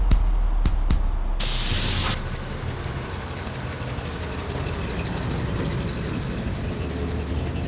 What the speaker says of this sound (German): Es ging dann mit dem Hauler auf die Autobahn